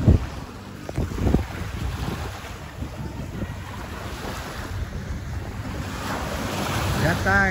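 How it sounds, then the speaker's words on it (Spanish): Caribbean Sea waves wash steadily onto the coast at Guayanilla beach at dusk, a continuous broad surf roar mixed with wind buffeting the microphone, with a few louder surges near the start. "Yo estoy aquí grabando hoy aquí la costa con el mar Caribe"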